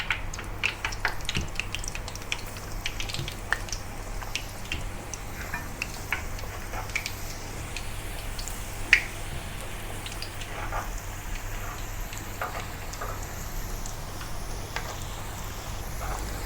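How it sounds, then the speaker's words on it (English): Wontons sizzle in hot oil at around 160 °C, a faint, steady crackle of small pops and ticks with no talking. "Now put the wonton into the hot oil and start frying."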